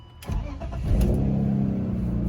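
A used 5-speed car with 151,000 miles cranks briefly and fires up, settling into a loud, steady idle close by, with no talking over it.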